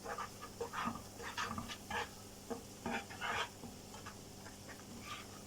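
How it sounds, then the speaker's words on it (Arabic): A spoon scrapes and stirs flour in a pan in short repeated strokes over low heat, with a soft sizzle underneath. "3 معالق كبيرة من الدقيق، وهنبتدي نحرك فيهم"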